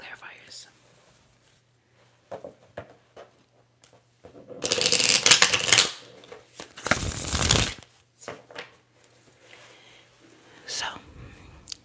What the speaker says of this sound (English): I'm going to shuffle one time and get some clarifiers.